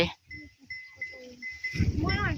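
Cattle with some twenty young calves on a farm in Thailand: low lowing and shuffling, with a drawn-out moo near the end, heard beneath intermittent voices.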